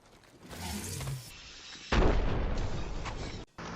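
A frag grenade goes off in the video game Apex Legends, a single heavy blast that swells into a loud rumbling roar lasting over a second, following some muffled game noise.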